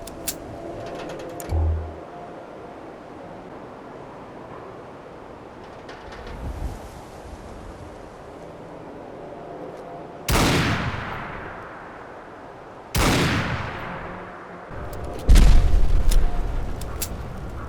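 Modded guns in Fallout 4 firing a few heavy booming shots with long decaying tails, spaced several seconds apart, with quieter mechanical reload clicks and thumps between them and no talking.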